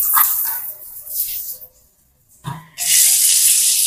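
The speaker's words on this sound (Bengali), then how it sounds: "এই যে হ্যান্ড শাওয়ারের পানি চলে আসছে" Water gushes steadily from a bathroom hand shower, a loud broadband hiss that breaks off briefly into near silence and then returns at full strength.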